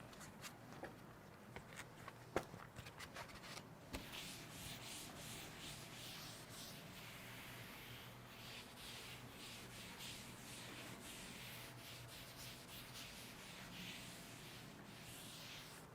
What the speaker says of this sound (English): Now I'm going to rub this part